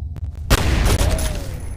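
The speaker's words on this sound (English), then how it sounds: "Misfired my gun." A few faint clicks, then a loud close gunshot blast in the shooter game F.E.A.R., followed by ringing and rumbling that tails off.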